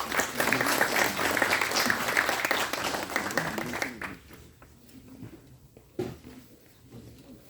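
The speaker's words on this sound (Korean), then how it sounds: "박수로 맞아주시기 바랍니다." An audience at a Korean commemorative academic conference applauds to welcome a keynote speaker, with dense, loud clapping for about four seconds that then thins into a few scattered claps and room noise.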